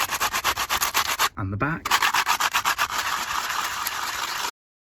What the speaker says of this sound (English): I want to scratch it some more